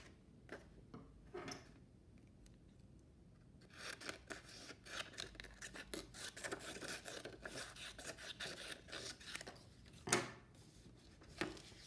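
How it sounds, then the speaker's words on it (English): Scissors snip through fancy paper to cut a basket handle, a run of quiet, close crisp cuts and rustles, irregular and spaced out, with no talking. "I'm going to use my extra piece to cut a handle."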